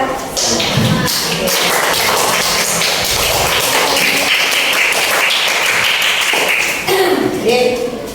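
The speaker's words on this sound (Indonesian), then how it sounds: "Sekali lagi tepuk tangan buat kita." A class of students gives a round of applause in a classroom, a busy patter of claps with thumps and taps, loud and close, mixed with some voices.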